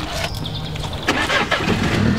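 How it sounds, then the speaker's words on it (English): A Mini convertible's engine cranks and catches, a brief starter whir giving way to a steady idle, close by, with no talk. "start her up"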